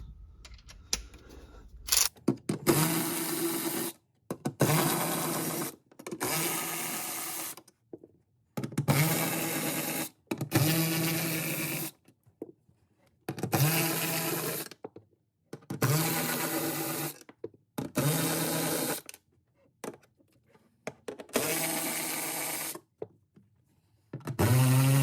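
Bolts being backed out of the rear access cover panel on a Porsche 981 GT4, heard as repeated bursts of loud whirring from a powered driver, roughly a dozen runs separated by short pauses, close by with no talk.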